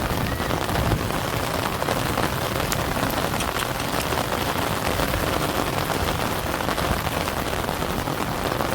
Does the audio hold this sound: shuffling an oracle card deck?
no